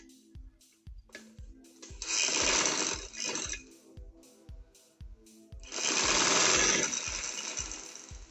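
A sewing machine stitches an angrakha shirt with a steady rapid needle rhythm throughout, swelling into two louder sustained runs, close and without talk.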